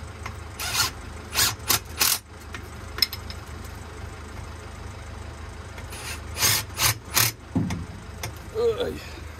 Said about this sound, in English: I'll just do it like that and I'll tighten them up by hand so I know that they're all the same.